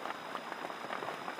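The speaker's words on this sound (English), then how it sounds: "Plus the rain only sticks around for about 1 to 2 hours." Steady rain patters densely on surfaces in the Malaysian jungle, a continuous close hiss of drops with no voices.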